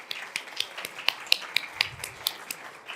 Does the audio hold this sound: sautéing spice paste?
no